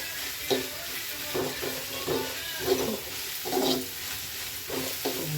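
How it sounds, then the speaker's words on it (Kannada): Egg masala sizzles and fries in a pan, a steady hiss broken by several soft scraping stirs at irregular intervals, close and moderately loud, with no talking. "ಸ್ವಲ್ಪ ಫ್ರೈ ಆಗಲಿ."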